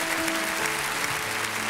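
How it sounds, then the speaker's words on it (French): A cabaret audience applauds a close-up magic act. The clapping is dense, steady and loud, with faint talk and music underneath. "Continue à applaudir plus que ça."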